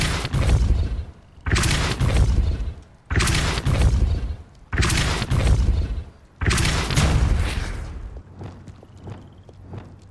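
The Depulso force-push spell is cast repeatedly in the Hogwarts Legacy video game, giving five loud, booming blasts with crashing impacts at regular intervals, followed by a quieter tail.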